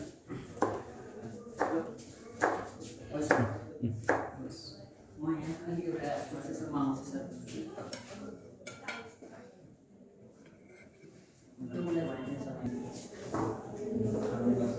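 A knife slicing food on a cutting board in a kitchen, with repeated sharp knocks in uneven bursts alongside clinks of dishes and cutlery, under ongoing speech.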